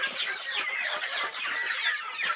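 Healthy desi chickens on a farm cluck and chatter continuously, several birds overlapping at close range.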